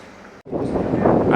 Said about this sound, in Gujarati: આમ જો બહુ મસ્તીનો પવન આવે છે.